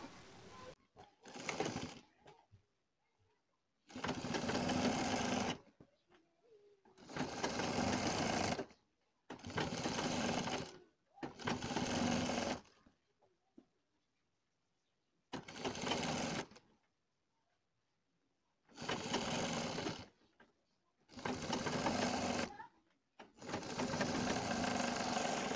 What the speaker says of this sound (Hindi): हम अपनी पाइपिंग की जड़ में लगा देंगे सिलाई और अपनी पाइपिंग को जमा लेंगे।